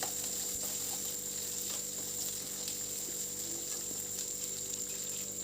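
Small shallots sizzle in hot oil in a pan while being sautéed for a garlic curry, a steady, crackling hiss that holds at an even level throughout, with no talking.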